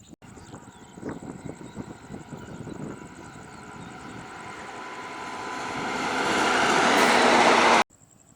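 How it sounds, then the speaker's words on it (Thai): A passenger train passing Ban Pho station in the evening rumbles closer, its roar building steadily into a loud broadband rush before cutting off abruptly; a faint high whine runs over the top. "เราก็เจอรถไฟขบวนแรกที่กำลังจะวิ่งผ่านสถานีในยามเย็นนะครับ เห็นว่าเป็นรถโดยสารนะครับ"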